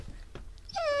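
A dog whimpers in a short rising, wavering whine that comes at the end after a few soft thumps and quiet rustling, close and fairly loud.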